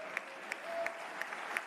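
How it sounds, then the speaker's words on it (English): An audience claps for a speaker, a faint, brief patter of applause with a few sharper individual claps standing out, heard from a distance. "These people are applauding this man"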